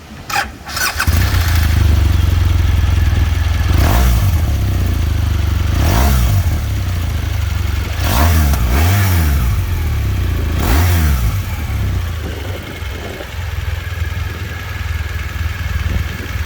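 A 2018 BMW R1200GSA Triple Black motorcycle, fully accessorised, starts and idles with a deep boxer-twin rumble, blipped through several sharp revs that rise and fall before settling back to a steady idle, close and loud.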